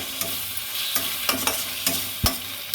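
A pasta snack is stirred with spices and tomato sauce in a hot pan: a bright sizzle runs throughout while a spoon scrapes and knocks in quick, uneven strokes, one louder thump near the end.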